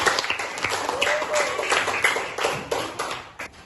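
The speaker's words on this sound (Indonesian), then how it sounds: "tepuk tangan lagi untuk Lisa." Steady applause from a fourth-grade elementary classroom full of students, dense overlapping claps continuing throughout with a few voices mixed in.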